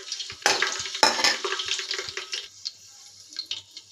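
Shahi jeera, cinnamon and cloves drop into hot oil for bagara rice, giving two sharp splattering bursts that settle into a softer crackling sizzle, close and with no one talking.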